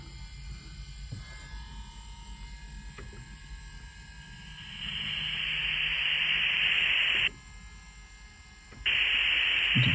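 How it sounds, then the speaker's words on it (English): Steady squelch hiss from a Trig TY91 VHF aircraft radio swells in, cuts out briefly, then returns, loud and broadband over a low background hum. "Just a fairly normal sound of hissing when I tap the squelch"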